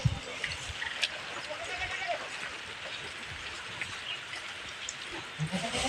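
Rain falls at a rural home, a soft steady patter with scattered drops and occasional knocks, fairly quiet, while a voice speaks over it.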